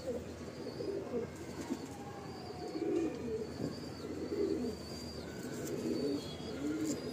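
Pigeons in a loft coo softly, with low repeated throaty calls rising and falling throughout. The sound is faint and slightly distant, with light chirps above.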